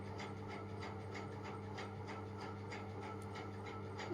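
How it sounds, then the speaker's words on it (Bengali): Potatoes and pointed gourd being stirred with spices in a pan, a steady scraping and rubbing texture repeating in a regular rhythm, close and fairly quiet, with no talking. "তো এই মশলার মধ্যে আলু আর হচ্ছে পটল ভালো করে মিক্স করে নেব মশলার সঙ্গে"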